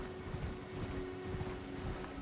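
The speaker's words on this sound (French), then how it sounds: "Ici, on prend le cheval et on va par là." A horse gallops in the video game Elden Ring, a quiet rapid rhythmic drumming of hooves continuing throughout over a faint steady tone, no voices.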